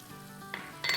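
Finely chopped green chilli for Rajasthani kadhi hits hot oil with a brief hiss that flares into a louder sizzle, close up, with no talking.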